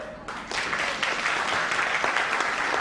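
Loud, dense applause from an audience at a network marketing seminar in Meerut, rising after a brief quieter start and holding steady as a continuous wash of clapping.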